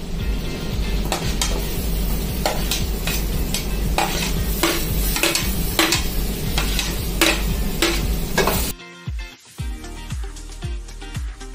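Vegetables being stirred in a pan: chopped cauliflower, carrot and French beans scraped round with a metal utensil, giving steady scraping and clinking over a continuous sizzle. The sizzle stops near the end and a few quieter clinks follow.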